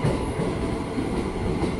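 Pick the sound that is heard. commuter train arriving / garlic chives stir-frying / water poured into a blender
commuter train arriving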